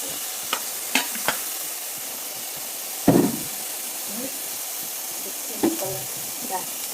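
Broccoli stir-frying in a pan with a little sugar added, a steady soft sizzle broken by a few sharp knocks and scrapes of a spatula against the pan.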